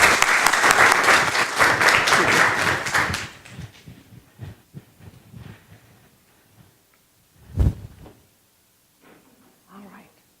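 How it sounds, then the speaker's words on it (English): An audience gives a round of applause for Dr. Candace McQueen, loud dense clapping for about three seconds that thins into scattered claps and fades, followed by a thump and a few faint voices. "Let's give her a good round of applause"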